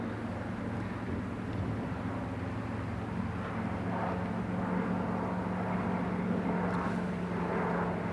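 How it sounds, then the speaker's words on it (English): A steady, low droning rumble of an airplane passing overhead at a distance over the coast of Kerrera, Scotland, soft and continuous throughout with no other sounds breaking through. "Sorry about the aeroplane."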